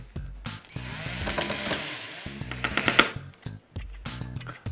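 Power screwdriver driving small self-tapping screws into the boards of a coffee table built from wooden crates, sounding in several short whirring bursts with brief pauses and clicks between them, close up and moderately loud.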